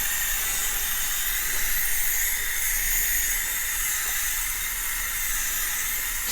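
Plasti Dip aerosol sprayed onto the racing stripes of a Dodge Durango R/T, a steady, loud, close hiss held without a break throughout and with no talking.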